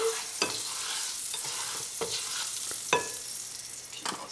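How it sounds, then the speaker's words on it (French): Butter sizzles in a hot pan before crêpes are cooked, a steady close frying hiss broken by several scraping strokes as it is spread. "pour faire cuire les crêpes, pour la première, on met un petit peu de beurre"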